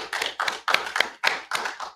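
A few people in the room at a live music-memorabilia auction clap after a sale. The claps are sharp, close and somewhat sparse, landing in uneven bursts for a couple of seconds with no talking over them.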